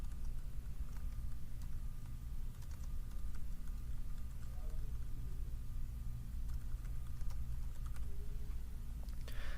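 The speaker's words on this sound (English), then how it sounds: "start typing out the description of your file" Rapid, steady clicking of a computer keyboard runs throughout as someone types a text description, with no speech and a low background hum underneath.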